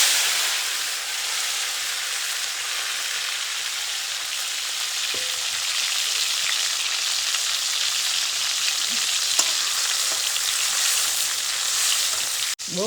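Tomatoes fry in very hot oil with garlic paste and spices, giving a steady, loud, even sizzle that holds for the whole stretch, with a faint clink and a brief scrape near the end.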